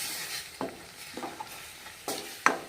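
Rice is stirred into spiced frying oil: a soft background sizzle broken by a few scraping strokes of a spoon against the pan, quiet and close, with no talking.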